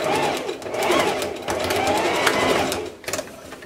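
A sewing machine stitches a circle blouse in a short, close burst, its fast rhythmic needle clatter running almost continuously before pausing near the end.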